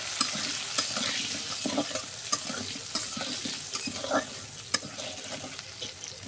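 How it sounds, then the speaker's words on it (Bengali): Potatoes seasoned with salt and turmeric fry in oil, a close, steady sizzle broken by repeated scraping and clacking as a utensil stirs them around the pan. "দেখুন এটা আমি আলুটা ভাজে নেব।"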